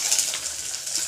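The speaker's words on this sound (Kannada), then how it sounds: "ಹೆಚ್ಚಿರೋ ಮೆಣಸಿನ್ಕಾಯಿ ಹಾಕೋಣ. ಈ ಥರ ಫ್ರೈ ಮಾಡೋಣ." Chopped green chilies sizzle briefly in hot oil in a pan, a short, close, steady hiss.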